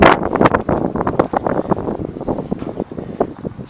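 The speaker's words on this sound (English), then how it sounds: "Let's get out of the wind." Wind gusting across an outdoor farm, buffeting the microphone in loud, uneven rumbling bursts that ease off slightly toward the end.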